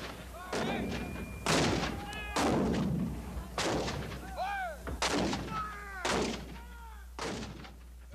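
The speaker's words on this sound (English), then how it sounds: "along the 2 miles of Confederate lines, over 130 pieces of field artillery open up" Civil War field artillery fires in a sustained cannonade, a regular series of heavy booming blasts each rolling into a long echoing decay, loud and somewhat distant, with faint voices in the background.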